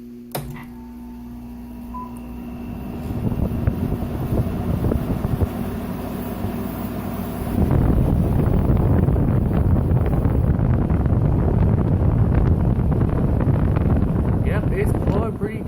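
Arctic King WWK05CM71N window air conditioner running on low, a steady broadband airflow hiss and hum that grows louder and rougher partway through, continuous and close.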